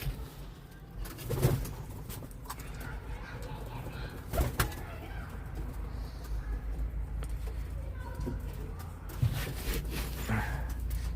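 Smoky tumbler pigeons cooing in a loft, soft low coos repeating at intervals with a few louder calls and brief wing rustles, close by over steady background noise, with someone talking nearby.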